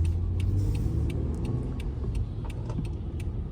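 A car accelerating from a stop at an intersection after a green light, engine hum and tyre noise rising steadily, close and continuous, with faint jingling of keys on top.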